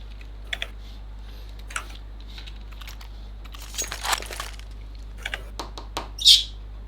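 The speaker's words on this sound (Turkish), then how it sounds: "Lan kuş." In the Mirage map of CS:GO, one short bird chirp sounds near the end over steady computer keyboard clicks and typing.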